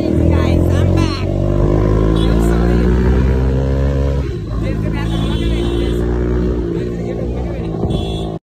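A Yamaha FZX motorcycle idles loud and close with a deep, throbbing exhaust rumble, then blips the throttle a few times. Voices chatter underneath.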